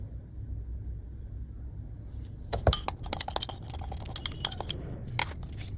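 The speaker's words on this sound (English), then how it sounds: "we combine all the materials we've added into the beaker so far and mix them thoroughly until everything becomes uniform" Glass clinks and scraping taps as a fertilizer mixture is stirred in a glass beaker, a quiet lead-in followed by a run of sharp, irregular chinks close by, with no talking.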